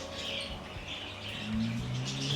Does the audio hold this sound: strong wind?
no